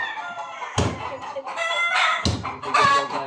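Stressed fighting roosters crow and cackle loudly and close by in repeated agitated bursts, with a couple of sharp thumps among the calls.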